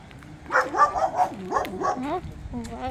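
A large local dog in Gambia barks and yips while running about, a string of voiced barks near the listener, close and fairly loud, with people talking nearby.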